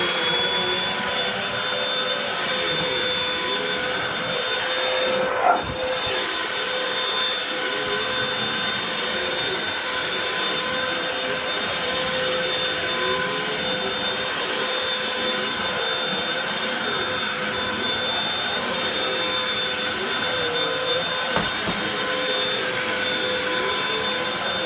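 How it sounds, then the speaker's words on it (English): A Hoover Wind Tunnel vacuum cleaner runs continuously with a steady high whine and airy roar, near and loud, with a couple of brief bumps along the way. "let's do the Hoover wind tunnel first."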